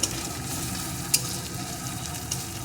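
Crushed garlic and ginger fry in a pan with a steady, close sizzle, and three brief sharp ticks of stirring cut through it.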